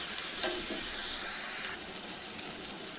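Sugar sprinkled over a sweet side dish melts and caramelizes in a frying pan, giving a close, continuous sizzle and hiss with faint stirring scrapes, no speech.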